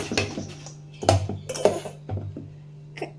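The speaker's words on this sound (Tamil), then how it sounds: "நீங்கள் எந்த அளவுக்கு பீட் பண்ணுறீங்களோ அந்த அளவுக்கு கேக் வந்து நல்லா சாஃப்டாக வரும்" Cake batter beaten by hand in a bowl at home, giving a few irregular clinks and scrapes of utensil against bowl, close and fairly quiet, with no talking.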